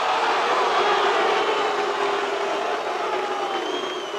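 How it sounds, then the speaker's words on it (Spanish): An arena crowd at a bodybuilding contest boos loudly after eighth place goes to Sergio Oliva, a dense, steady roar of many voices that fills the whole hall and fades only slightly at the end. "El silencio fue seguido de un estallido de abucheos que no tardaron en llenar el recinto."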